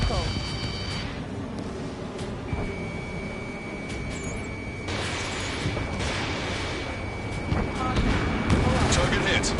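Missile launches and explosions in the combat flight game Ace Combat 7 boom and rumble amid a busy wartime soundscape, with radio voices talking over the action and a thin whine lingering in the mix.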